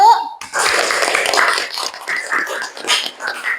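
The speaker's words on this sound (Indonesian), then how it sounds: "tepuk tangan untuk kelompok 1" Classmates applaud a student discussion group in a classroom, a burst of group clapping that starts abruptly after a brief voice and continues unevenly, close and fairly loud.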